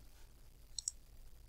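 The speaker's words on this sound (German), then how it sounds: "Hier auf Abgeben klicken." Two quick, faint mouse clicks, close together, submitting an assignment in the Microsoft Teams app, set against a quiet background hum.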